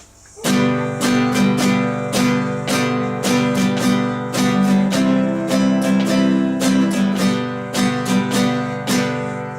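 An acoustic guitar strums a steady rhythmic pattern on G, bright and close, changing to C partway through before returning to G.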